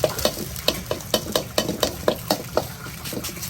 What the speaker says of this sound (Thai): จากนั้นเราก็ใส่ข้าวลงไปผัด